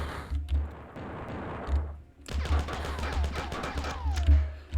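A rocket launcher fires in the classic first-person shooter Marathon, with heavy blasts, whooshing and rumbling explosions at loud volume, then a descending whine as a projectile flies through the retro game's room.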